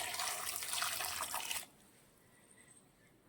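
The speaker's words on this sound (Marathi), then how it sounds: "भरपूर असं पाणी घालून आता मी हे बटाटे मस्त असे उकडून घेणार आहे" Water poured from a tap into a pot for boiling potatoes, a loud continuous rushing stream that cuts off abruptly halfway, leaving quiet room tone.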